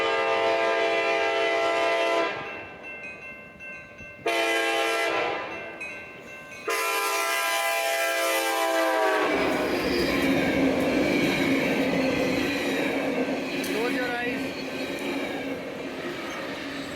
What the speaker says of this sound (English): a short video from Piyush Garg, who caught the eastbound Ace train in Pleasanton